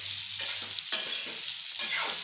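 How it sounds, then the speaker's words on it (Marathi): Chopped ridge gourd stirred into a pan with turmeric, a soft continuous sizzle with several scraping spatula strokes, close and alone. "आता दोडके टाकून घ्यायचे। छान एकदा मिक्स करून घ्यायचं।"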